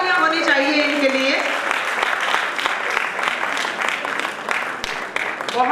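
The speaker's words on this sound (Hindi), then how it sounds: "पुरजोर तालियां होनी चाहिए इनके लिए।" Audience applause at a Haryanvi music performance honoring a sarangi player, dense sustained clapping throughout, with a voice speaking over it at the start.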